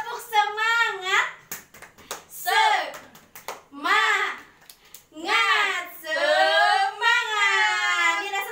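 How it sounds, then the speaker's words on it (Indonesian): Students in a school classroom perform a rhythmic spirit-clapping chant, with bursts of sharp claps alternating with loud chanted voices from the group in a repeating pattern. "Tepuk semangat."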